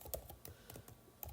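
Quiet, close typing on a computer keyboard, a rapid uneven patter of individual key clicks over a little more than a second with no talking.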